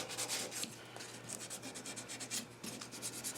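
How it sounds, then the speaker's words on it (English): Light rust being scrubbed off the bare metal of a school desk, making a close, steady back-and-forth rubbing rasp in quick rhythmic strokes. "places it's bare metal and I'm actually cleaning light rust off."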